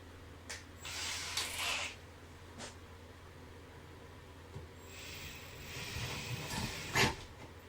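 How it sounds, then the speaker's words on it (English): A power drill whirs in short bursts, drilling 5mm holes in the metal of a VW Lupo boot, with mechanical clatter and metallic scraping, close by, separated by quiet pauses. "So these outer holes, I'm drilling them to 5mm now."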